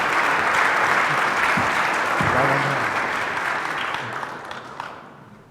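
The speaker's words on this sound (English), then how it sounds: "let's have a good round of applause for our Ward 6 candidates." Audience applause for Ward 6 candidates at a candidate forum, a steady dense wash of clapping that holds for several seconds, then thins and fades near the end, with a few voices mixed in.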